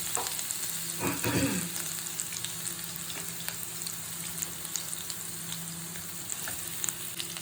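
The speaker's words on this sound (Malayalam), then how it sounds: "ഇപ്പോൾ എണ്ണ ചൂടായി. അതിൽ 1 സ്പൂൺ വെളുത്തുള്ളി ഇഞ്ചി പേസ്റ്റ് ഇട്ട് കൊടുത്തു." Garlic-ginger paste hitting hot oil in a pan for chilli chicken, a loud burst of frying early on that settles into a dense, steady sizzle with light stirring.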